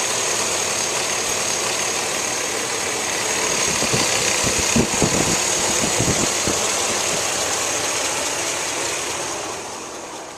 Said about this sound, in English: let me show you what it looks like with the engine running